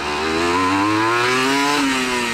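A 1996 Honda NSR 150R two-stroke motorcycle engine revs loudly and close, pitch climbing steadily before dropping back briefly near the end, with no talk over it.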